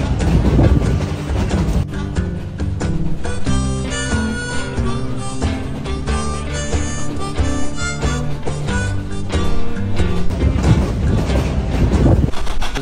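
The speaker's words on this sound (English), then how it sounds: "The locomotive used to pull today's trains are either oil-fired or coal-fired," A 1920s-vintage oil- or coal-fired steam locomotive hauls a heritage passenger train on the Durango to Silverton line, a steady close rumble and clatter of wheels and cars with wind buffeting throughout.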